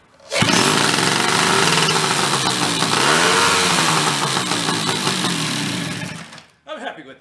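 A Chrysler Sno-Runner engine running after carburetor repair, choke off and given a little throttle: a loud, close, steady buzzing roar that holds for about six seconds and then cuts out, followed by a brief softer noise.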